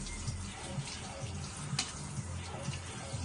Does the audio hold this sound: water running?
yes